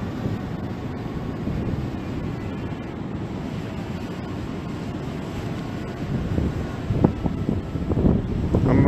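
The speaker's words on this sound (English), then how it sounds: "Wind's picking up again." Steady wind buffets a Mavic Air drone flying about 70 feet up, a constant broad rushing roar that swells and gusts more strongly near the end, with no voices.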